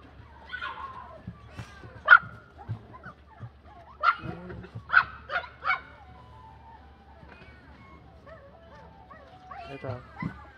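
A husky in Japan gives a string of short yips, whines and barks, loud and close, in bursts with pauses between, while people talk over and around it.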